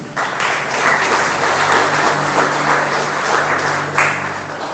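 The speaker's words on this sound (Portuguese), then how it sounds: "Pode aplaudir o Senhor Jesus?" Church congregation at a Portuguese-language service applauding, a full, steady roar of clapping that stays loud and even for several seconds.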